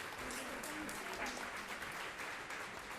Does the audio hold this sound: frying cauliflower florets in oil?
no